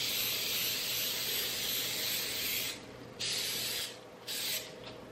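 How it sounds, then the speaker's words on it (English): Cooking spray hisses onto a baking pan for holiday desserts: one long, steady, close-up spray of almost three seconds, then two shorter bursts with brief pauses between them. "just gonna spray this pan just to make sure we can pull it out later"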